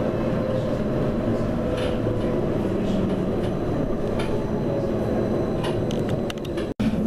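Steady rumble of an Edinburgh tram running toward Newhaven, heard from inside the carriage at the back, with constant low rolling noise and faint rattles, then a brief dip near the end.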